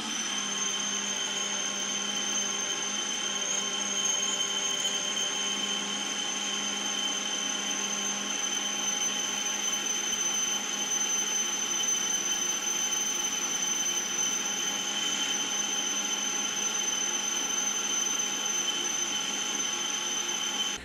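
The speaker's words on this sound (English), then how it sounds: "We put the lathe in a low speed like 200 RPM" A lathe turning at a low 200 RPM while a 40 mm annular cutter drills into a workpiece, giving a steady, continuous machine whine with sustained high tones and no pauses, loud and unbroken throughout.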